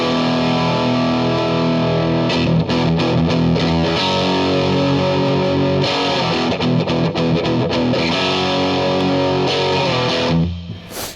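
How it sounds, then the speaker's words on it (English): A Starfavor relic Strat-style guitar on its bridge pickup, played through distortion without a boost, chugs heavy palm-muted riffs, loud and sustained with brief choppy stops before fading out. "So this is boostless chug, bridge pickup"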